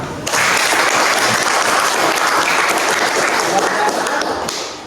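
A classroom bursts into applause for a student group that has just finished presenting, a dense, loud burst of many hands clapping that holds steady and then tapers off near the end.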